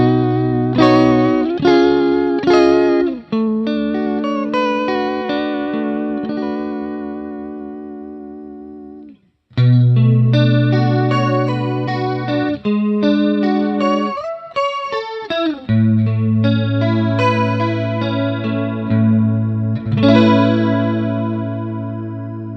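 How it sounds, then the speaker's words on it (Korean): Clean electric guitar chords and single notes ring out through a JAM Pedals Waterfall chorus vibrato pedal with a Leslie rotary speaker feel, warbling with swirling pitch wobble and short pauses between phrases. "워터폴은 제가 애정하는 코러스 비브라토 페달이고 레슬리 로터리 스피커 사운드의 느낌도 있죠"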